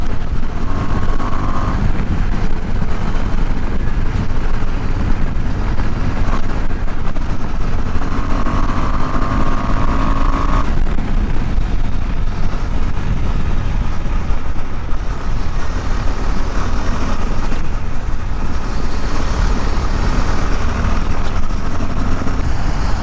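A KTM Adventure 390 motorcycle engine is heard while riding, with a loud, continuous roar at around 4000–4500 RPM that rises and falls with throttle under heavy wind buffeting, no talking.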